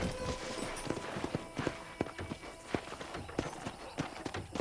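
Horse hooves clip-clop at a steady walking rhythm in Red Dead Redemption on the Xbox 360 while touring a ranch, distinct repeated thuds close by over a faint ambient bed, with no speech.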